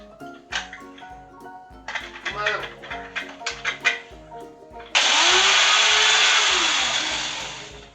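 An electric grinder coarsely grinds caraway seeds in a short, loud, steady whirring burst after some clattering and handling nearby, while a person speaks.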